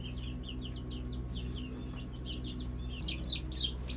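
Chickens cluck and chirp in a coop with a chicken run, a steady patter of soft calls over a constant low mechanical hum.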